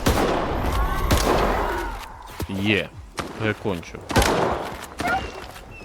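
Gunfire during a hunt in the S.T.A.L.K.E.R. video game, with rapid, sharp shots cracking close at the start, then fading under a voice.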